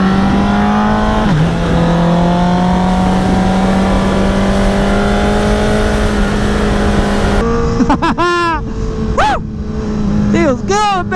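A Honda CBR superbike engine drones steadily while being ridden, holding a constant pitch with a brief dip, then revs through several rising and falling bursts as the rider shifts, with wind rush underneath and no talk.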